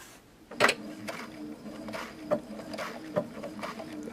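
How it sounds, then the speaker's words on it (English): A sewing machine stitches an appliqué along the edge of the fabric, its soft mechanical whir running close and steady with a few sharper clicks mixed in. "See how I'm stitching right along the edge, the bite's going into the fabric."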